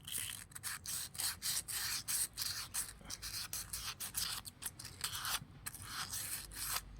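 Hand wet sanding with soaked abrasive paper on an AM6 moped engine part, a steady run of quick, close rasping strokes in fast repeated bursts with no talking.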